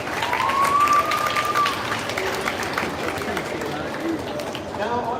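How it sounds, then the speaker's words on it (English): Applause at a 7th grade school band Halloween concert, a dense crowd clapping with murmuring chatter mixed in and a faint whistle early on, steady throughout. "let's clap for your parents"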